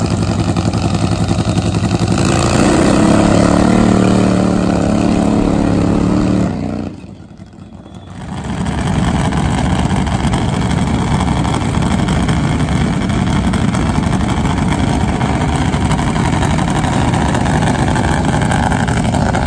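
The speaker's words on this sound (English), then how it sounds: "Enjoy some of the burnouts here from final qualifying." Supercharged nitro Harley drag bikes do burnouts during final qualifying at a drag strip, with a loud, sustained engine roar. The roar drops briefly near the middle, then returns to a steady, heavy drone.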